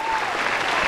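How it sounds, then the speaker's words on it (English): Canned applause plays from a soundboard: a dense, steady wash of clapping with light crowd cheer, loud and continuous for under a second. "It's nice to have applause in a bottle,"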